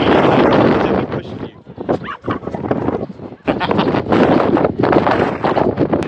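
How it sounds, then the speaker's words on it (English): Strong wind on Perranporth beach in Cornwall roars and buffets the microphone almost nonstop, loud and gusty, easing briefly in the middle before blasting back in. "We are getting blasted about a bit by the wind"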